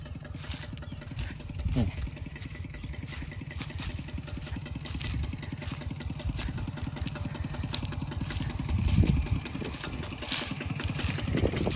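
A walking tractor ploughs rice stubble with a disc plough, its small engine chugging in a steady rapid beat with clattering from the plough, fairly close and continuous, swelling briefly a couple of times.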